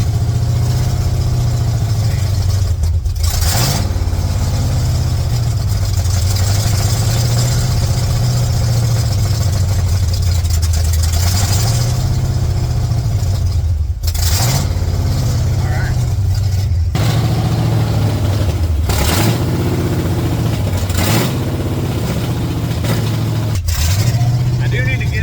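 A 1982 Chevrolet C10 pickup engine idles roughly and unevenly, its low drone wavering and dipping as if about to stall, with brief throttle blips lifting it. Someone talks over the running engine.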